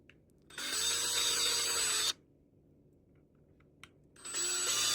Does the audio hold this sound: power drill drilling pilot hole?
yes